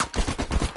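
Gunfire aimed at the player in a riot squad shooter video game: a rapid burst of about five or six sharp, close shots in quick succession, loud and dense, with no talking.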